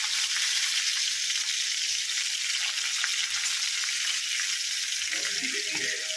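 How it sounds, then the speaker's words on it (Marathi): Cumin seeds, curry leaves and garlic sizzling in hot oil for a potato dish, with a loud, steady, close hiss and crackle that continues throughout, plus a brief stir near the end. "तर त्यामध्ये आपण प्रथम जिरे टाकून घेणार आहोत, त्यानंतर थोडासा कढीपत्ता, त्यानंतर लसूण,"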